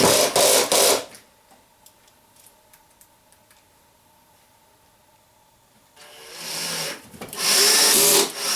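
A power drill drives a screw into a wooden ammo box in a short burst, goes quiet for several seconds, then whirs again with another loud driving burst near the end.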